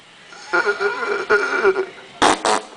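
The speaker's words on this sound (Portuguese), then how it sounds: "Então foi você que peidou?" A comedic fart sound effect in a Portuguese redub of a horror film, with sputtering, droning blasts that are loud and close, followed by two short sharp bursts at the end.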